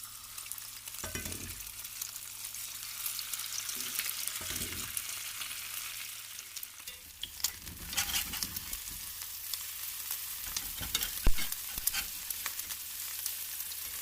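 Fatty pieces of meat fry in a cast iron skillet with a continuous crackling sizzle and scattered pops, plus a couple of low knocks early on, heard up close with no speech.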